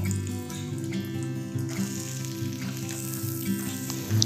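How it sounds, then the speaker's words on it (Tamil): Chopped small onions sautéing with ginger and garlic in a pan, a steady loud sizzle with a low humming tone and occasional stirring bumps, close and continuous, no one speaking. "1 கப்பு சின்ன வெங்காயம் கட் பண்ணதை போடுறேன்"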